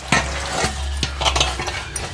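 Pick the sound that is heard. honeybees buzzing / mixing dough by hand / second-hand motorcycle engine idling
mixing dough by hand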